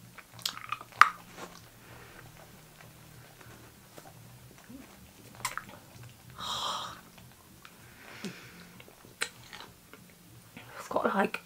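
Fizzy sherbet-filled sour candy gets bitten and chewed close up, with a few distinct crunchy bites and soft chewing noises separated by quiet pauses and breathing.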